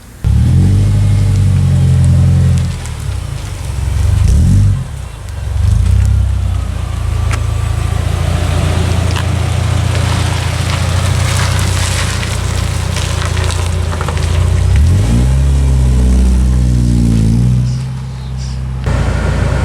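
A Subaru Impreza with an EJ25 engine and Magnaflow exhaust revs repeatedly, loud and close, with rising and falling blips at the start and again near the end and a throaty idle rumbling between them, with no voices.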